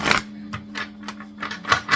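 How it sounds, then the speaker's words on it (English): Oracle cards from a Soul Coaching deck being shuffled by hand before a reading, giving a run of about six short papery riffles and slaps, close and fairly loud, with a faint steady hum underneath and no talking. "I do shuffle all the cards before the reading"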